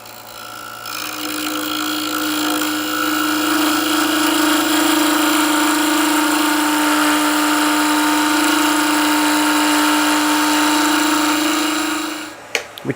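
A wood lathe spins steadily with a sustained whine while a chisel cuts a tenon for a small turned box, a long even tone that stops abruptly near the end.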